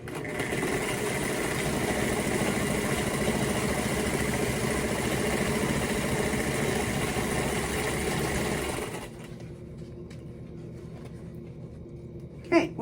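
A sewing machine stitches a surgical mask, running in a steady, fast mechanical whir for about nine seconds before stopping, leaving a quiet room with a brief knock at the end.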